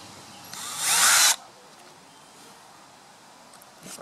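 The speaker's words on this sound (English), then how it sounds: "start drilling." A power drill drives a screw into the body of a homemade potato cannon in one short, sharp whirring burst close to the mic, then quiet handling and a faint click.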